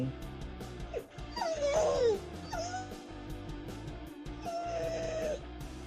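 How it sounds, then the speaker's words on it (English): A puppy whining nearby: a series of high, wavering whimpers and yips, some rising and falling, over a steady background hum, with no talk. "I hear a whiny puppy."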